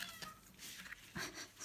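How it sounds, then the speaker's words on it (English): A pet cat meows a few times close by, short drawn-out cries in a quiet room while someone works at a table making a paper craft notebook. "sorry, that's my cat."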